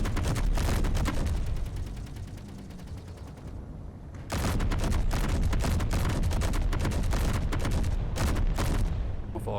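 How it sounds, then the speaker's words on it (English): Gatling and assault gun fire in a video game, dense rapid bursts of machine-gun shots that rattle on continuously, dip briefly to a lower rumble, then resume at full loudness. "Oh no, we've actually got a assault gun or something firing at us."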